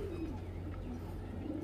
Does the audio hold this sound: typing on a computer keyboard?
no